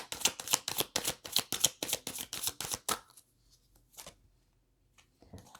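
Tarot cards are shuffled for a reading: a fast, loud run of crisp riffling flicks for about three seconds, then a few quieter, scattered card handling sounds.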